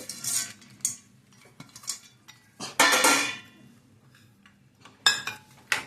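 Soybean dum biryani being stirred in a pot, a few close metal spoon scrapes and clinks against the vessel in separate bursts with quiet gaps between them.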